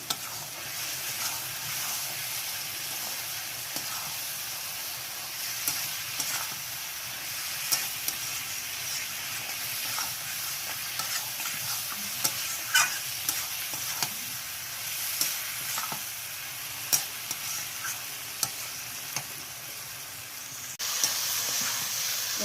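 Fried potatoes and cauliflower cook in spice paste in a pan, a long, steady sizzle with frequent small scraping clicks from stirring.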